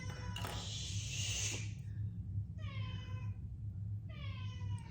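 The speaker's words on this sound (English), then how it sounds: "sorry about the cat" A cat meows twice, fairly close, over a steady low background hum; a brief rustle comes just before.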